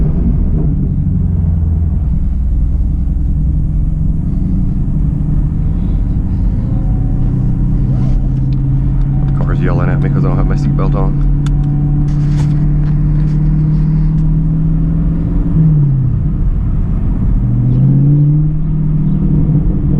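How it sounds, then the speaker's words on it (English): A 2020 Camaro SS 1LE fitted with a K&N cold-air intake rumbles steadily at close range, with a slight swell in engine tone near the end. A person talks over the engine at times. "You could definitely hear the induction noise, which is pretty cool"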